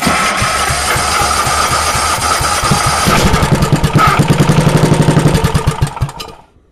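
A small engine started cold with the choke runs loudly and close by, sputtering into a rapid, uneven rhythmic firing that speeds up and then cuts out abruptly at the end.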